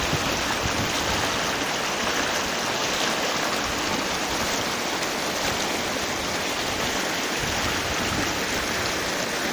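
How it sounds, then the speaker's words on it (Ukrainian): A continuous rushing babble of a fast-flowing, clear stream among small snowy glades, bright and steady throughout with no voices, water splashing over stones close by. "Хоча ось така бурклива річка."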